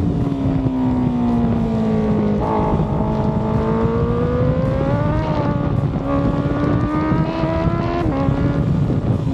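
A Honda CBR 1000 RR-R Fireblade SP on a race track, its engine screaming high and steady with rising and falling pitch through shifts, close and loud with wind rush and no talking.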